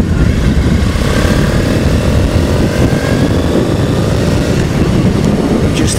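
A Triumph Bonneville motorcycle on the move in hill country, its engine droning steadily and loudly for several seconds, blended with heavy wind rush and no talking.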